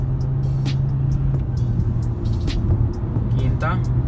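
A 2019 Mitsubishi Eclipse Cross engine accelerating through the gears in sport mode, heard as a steady low rumble from inside the cabin while someone talks over it.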